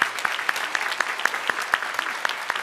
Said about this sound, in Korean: 잠깐 일어서시면 우리 박수로 환영하도록 하겠습니다.